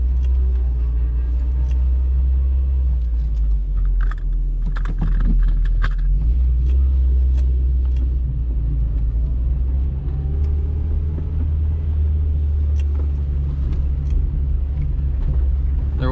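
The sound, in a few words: cheap $80 Copart car engine running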